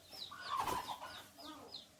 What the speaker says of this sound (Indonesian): Ini ada anak ayam yang lewat.